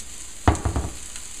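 Vegetables stirred in a pan over medium heat for an omelet, a few close scraping and clattering strokes over a soft background sizzle.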